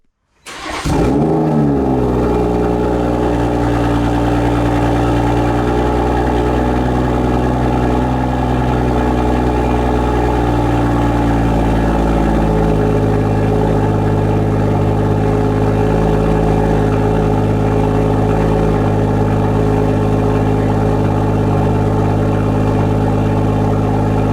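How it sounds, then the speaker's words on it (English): A 2017 AC Schnitzer ACL2S with an AC Sports exhaust, particulate filter and black quad tips starts up sharply, then flares briefly before settling into a loud, steady, close idle with a deep rumble. "Finally, we come to the AC Sports exhaust system with OPF or particulate filter, finished here with black quad exhaust exits."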